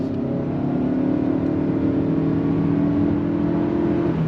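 A 2025 Toyota Camry LE under full throttle, its engine droning at a steady held pitch with no shift breaks, a continuous loud hum heard from inside the cabin.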